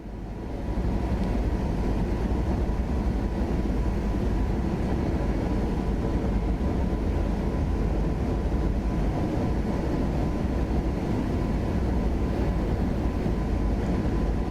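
DB BR 146.2 electric locomotive running in Train Sim World 5, a steady loud rumble of motors and wheels on rail holding constant for the whole stretch, no voices.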